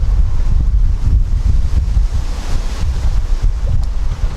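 Outdoor wind buffeting a microphone, a loud continuous low rumble with steady gusting roar throughout and no voices.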